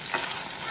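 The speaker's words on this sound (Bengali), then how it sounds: "কাঁকড়াটা ভাজছে" Crab pieces frying in a pan give off a loud, dense, continuous sizzle and crackle, close up, with no voices.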